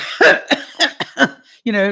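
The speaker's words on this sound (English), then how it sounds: "That sort of a cough, like you got bronchitis type cough." A short run of several harsh, chesty coughs in quick succession, close and loud, followed by a brief voiced sound.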